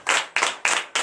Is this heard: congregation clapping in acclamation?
yes